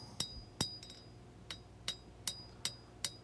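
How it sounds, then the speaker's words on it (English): Knife steel being hand-forged into bevels with a hammer, a series of about eight sharp, ringing metallic strikes at an uneven but steady pace, fairly quiet against a low background hum. "I'm forging these the main bevel in at a much shallower angle"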